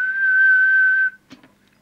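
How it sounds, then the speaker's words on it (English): A steady, pure whistle tone is held for about a second during a transmit check on a Grandstand Hawk CB radio, mobile unit, then cuts off, followed by a brief soft click or murmur. "We'll just do the quick whistle check."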